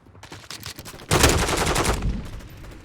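Automatic weapon fire from Call of Duty: Modern Warfare II on PS5, with a few scattered shots giving way to a loud, sustained close-range burst that rattles on for nearly a second.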